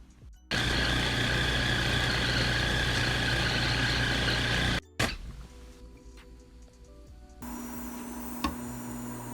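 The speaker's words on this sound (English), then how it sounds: "put it in a blender with water" A blender whirring loudly and steadily as it blends yanang leaves with water for Lao bamboo shoot soup, stopping abruptly after about four seconds, followed by quieter clicks and a hum.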